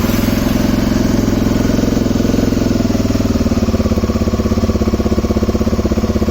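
A 1988 Honda NX250 motorcycle engine starts and settles into a loud, close, steady idle with an even rapid pulsing beat, running alone without talk.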